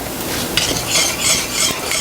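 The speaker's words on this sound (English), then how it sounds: "once this starts boiling, I want it to boil for 3 minutes" A pot of butter, sugar and heavy whipping cream boils on the stove, heard as close, bubbling sizzle with soft stirring scrapes and rising hissy swells, no voices.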